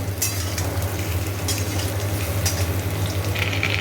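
Papaya pieces with ginger and salt fry in a pan with a steady, close sizzle, broken by a few scraping stirs and faint utensil clinks, no voices.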